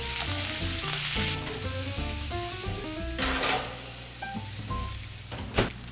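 Steaks for steak au poivre searing in a hot pan after being flipped, a loud constant sizzle with clanks of the pan and tongs and a few louder spatter bursts, close and alone.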